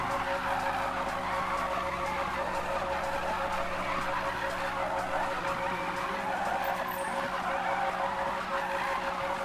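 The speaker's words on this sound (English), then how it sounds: "Are you doing a full on drift?" A car drifts in a long, steady tire skid, with a continuous loud squeal over the engine for the whole stretch and no talking.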